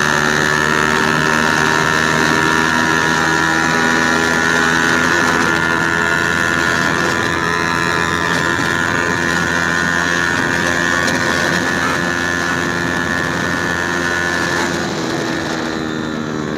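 High-speed Hi Speed Infinity 150 motorcycle engine running hard in fourth gear around 110 km/h, a loud sustained tonal drone with wind rush, steady and close throughout.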